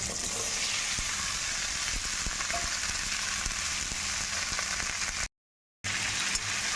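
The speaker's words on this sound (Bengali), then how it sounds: "কিছুক্ষণ ভাজার পরে দিয়ে দেবো এর মধ্যে কেটে রাখা আলু" Cut potatoes frying in mustard oil with salt and green chilli, a steady dense hiss of sizzling that continues evenly, broken by one short gap of silence near the end.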